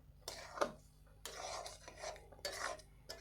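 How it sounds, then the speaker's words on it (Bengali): A utensil scrapes around a pan as sugar is stirred into carrot halwa, making three bursts of close, gritty rubbing strokes separated by brief pauses. "এবার মিষ্টিটা ভালো করে এভাবে চিনিটা মিশিয়ে নেব।"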